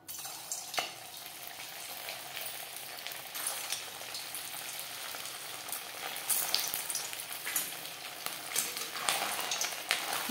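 Semolina gulab jamun balls fry in hot oil in a kadai, giving a steady, dense sizzle with fine crackling bubbles throughout, fairly close and even in level, with no talking.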